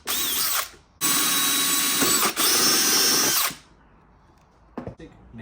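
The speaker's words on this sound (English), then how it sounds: "It just makes it a bit easier before you go ahead and drill the full 10mm size." A handheld power drill bores a 10mm hole for an oil breather (air oil separator) on a Ford Focus XR5 / MK2 RS, running in three loud, steady whining bursts with short pauses between, then stopping, followed by a few faint clicks.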